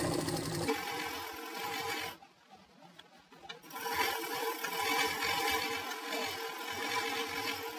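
A sewing machine runs along the side seam of a farshi salwar, whirring steadily and close, stopping briefly for about a second and a half before resuming.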